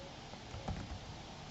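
Quick light taps on a computer keyboard patter through a steady background hiss, faint and close, with a few slightly louder clicks and no talking.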